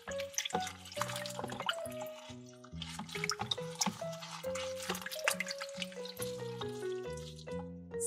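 Water running and dripping over a plastic toy in a sink, a steady stream with splashy, tonal trickling and bubbling, close and moderately loud with no talking.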